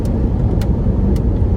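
Inside a car with a Chrysler 5.7 liter Hemi V8, a steady low engine and road rumble fills a brief moment, constant and close with no talk.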